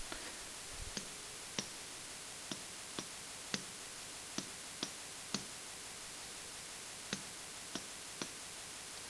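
Graphing calculator keys being pressed one at a time, a sparse series of about a dozen sharp, quiet plastic clicks at irregular intervals over faint background hiss.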